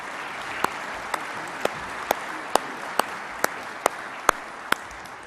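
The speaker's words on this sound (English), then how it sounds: "please join me in a round of applause for our panelists" Audience applause for the panelists at an Air Force Association air warfare symposium: a steady, dense wash of clapping across the hall, with sharper individual claps popping out at roughly half-second intervals and no talk.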